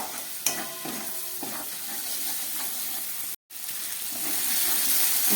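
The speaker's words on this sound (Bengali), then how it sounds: "দিয়ে এটাকে খুব ভালো করে এবার কষাবো।" Prawn curry with green chillies and turmeric sautéing in a pan gives a steady, close sizzle with scraping stir strokes. A brief cut of silence falls midway, and no one speaks.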